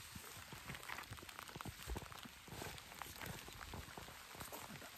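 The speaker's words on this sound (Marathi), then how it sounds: "पाऊस आलेला आहे बेकार." Rain falls steadily in a quiet setting, a soft continuous patter with scattered drips and taps close by, faint overall and with no voices.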